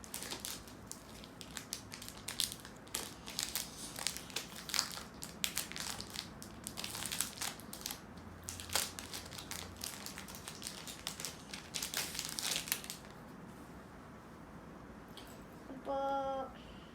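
A magnetic puzzle is unboxed with dense, close crinkling and crackling of packaging in irregular bursts, easing into quieter rustling and a short scrape near the end.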